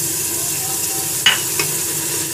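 Beans, peas, capsicum, paneer and other vegetables sauté in a hot pan for vegetable biryani, giving a steady sizzle with a couple of brief scraping stirs partway through. No one speaks.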